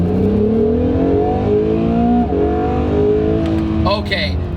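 An Acura NSX engine accelerates hard, its rising whine climbing in pitch, dropping briefly at a gear change, then climbing again, loud and close from inside the car.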